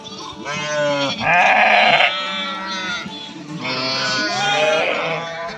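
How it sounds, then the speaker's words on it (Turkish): Sheep and lambs bleat in overlapping, wavering cries on a farm, several animals calling loudly and close by with no talk. "kuzular, koyunlar bunlar"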